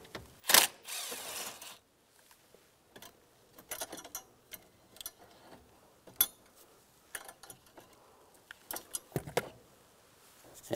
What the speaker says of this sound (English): Take this screw out right here, use a T25 socket.